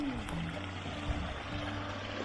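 Water flows in a small beck in the Lake District, a soft, steady rushing and trickling that carries on for a couple of seconds at low volume.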